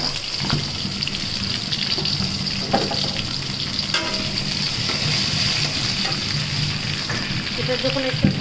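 Garlic and ginger frying in hot mustard oil, a steady close sizzle with a little stirring, continuing without a break and no voices over it.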